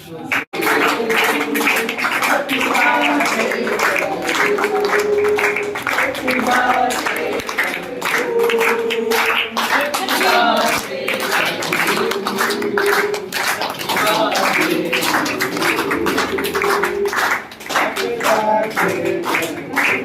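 An audience claps at a birthday celebration for a Hindi newspaper's 40th anniversary, a long sustained burst of many hands clapping with cheering voices and shouts mixed in throughout, loud and close.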